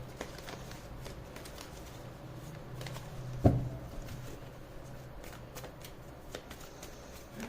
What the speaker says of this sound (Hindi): हम यहाँ से भी एक सरेंडर कार्ड उठा लेते हैं